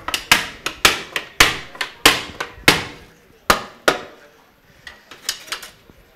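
Metal hoops are hammered down onto oak whiskey barrel staves, a series of loud, sharp ringing strikes in an uneven rhythm, close, with several lighter taps trailing off at the end.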